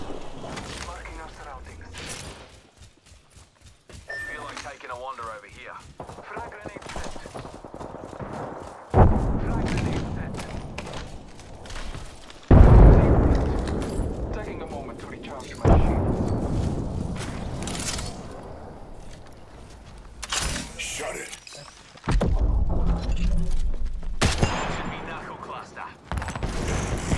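Gunfire and explosions in the video game Apex Legends: repeated sharp bursts and heavy booms erupt over a continuous stream of gameplay noise, with several loud blasts spread through the clip and voices talking throughout.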